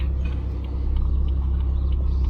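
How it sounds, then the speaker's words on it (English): Steady low engine rumble from a BMW 440i car, loud and continuous with a droning, slightly reverberant quality, echoing off walls in a residential area. "the sound of the car tends to echo a lot"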